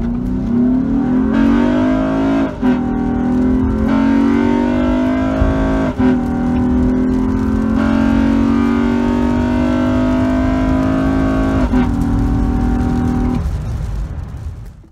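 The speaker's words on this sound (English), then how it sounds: "When VTEC engages, there is also an audible change." Honda-style VTEC engine revs hard through repeated pulls, a loud close howl climbing in pitch with brief drops between shifts and a harsher tone as variable valve lift engages, then fading at the end; no talking.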